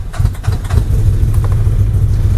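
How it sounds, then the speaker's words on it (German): A new CF Moto UForce 1000 side-by-side ATV engine starts up and settles into a steady low rumble, close and loud, with no talk over it. "ich muss mal einmal den Motor anmachen"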